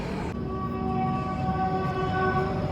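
Train hauled by a WAP-7 electric locomotive at a railway station, giving a loud, sustained horn-like tone with a steady rumble underneath, close by and continuous.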